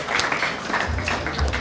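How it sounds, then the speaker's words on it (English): A short burst of audience applause at a business association dinner meeting, with brisk clapping from a room of diners for a second or two. "Big round of applause from Reem Burrows"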